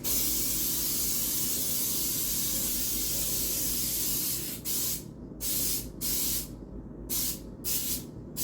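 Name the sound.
baking spray with flour sprayed over the sink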